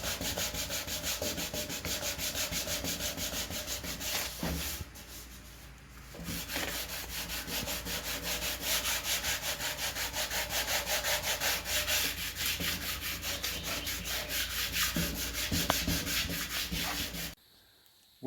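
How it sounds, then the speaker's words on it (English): Steady rhythmic rubbing of sandpaper on the metal hood of a 1950 Farmall Cub tractor, close and continuous with one short pause midway, ending abruptly. "we've got the hood completely sanded"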